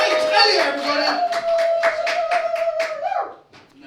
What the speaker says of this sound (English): keep the applause going as well